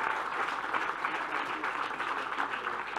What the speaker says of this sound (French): je pense qu'on peut l'applaudir aussi